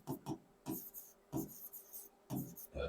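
Chalk scratches across a board in a Hindi horticulture class on bananas, in quick separate bursts of strokes with brief pauses between them, close and fairly quiet.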